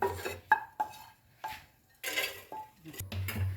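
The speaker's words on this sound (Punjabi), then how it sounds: "ਫਿਰ ਆਪਾਂ ਪੈਨ ਨੂੰ ਸਾਫ਼ ਕਰਾਂਗੇ" A pan being cleaned, with metallic clanks and scrapes of a utensil against it coming in short uneven bursts between brief pauses, close and fairly loud.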